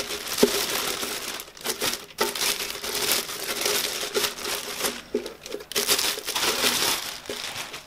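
Plastic packaging crinkles and rustles as a small new cube fish tank is unwrapped, with close, continuous crumpling and crackling in irregular bursts and no voices.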